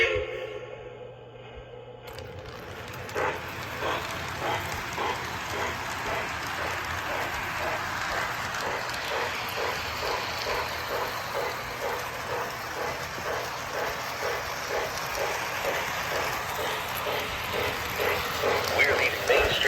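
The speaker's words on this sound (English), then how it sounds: "let's run this engine for a little bit and this train set" A Lionel Disney World 50th Anniversary train set engine runs with rhythmic chuffing pulses that build steadily after a brief start, close and continuous, with a voice talking over part of it.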